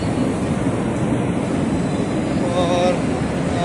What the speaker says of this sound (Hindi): मेट्रो भी आ चुकी है